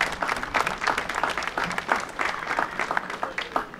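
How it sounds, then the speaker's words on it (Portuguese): Clapping from a crowd at a village festival opening parade in Portugal, cheering a folk song and dance group. It comes as a fairly faint, uneven patter of many hands with distinct individual claps and no talk over it. "Mais uma salva de palmas para estes senhores que aqui estão e todo o grupo."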